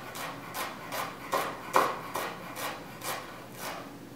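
A knife slicing the bottom off a vegetable in a home kitchen, heard as a steady series of about nine soft, evenly spaced cutting strokes, close and fairly quiet with no talking.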